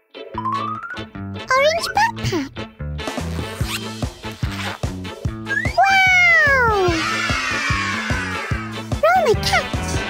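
A pet cat meows with rising and falling cries among busy, loud, rhythmic household sounds, while someone talks nearby.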